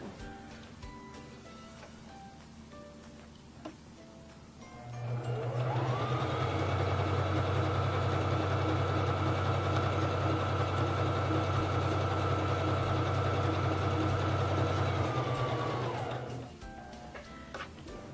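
Singer Fashion Mate 3333 free-arm sewing machine running steadily through a wide zigzag stitch for about ten seconds, a loud continuous motor hum with rapid needle ticking that starts, holds even, then stops, with no talking.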